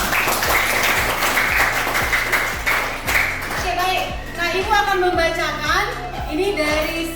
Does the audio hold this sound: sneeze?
no